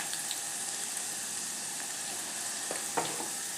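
Onion with a spoonful or two of red chutney sautés in a pan for a Kolhapuri egg curry, a steady moderate sizzle with a few sharp stirring clicks and scrapes toward the end, close by.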